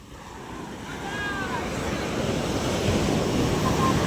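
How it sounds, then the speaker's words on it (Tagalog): Loud ocean surf roars close by at a fishing boat landing, building and breaking with heavy rushing water and gusty wind buffeting the microphone. "Ang lalaki ng alon na kasunod"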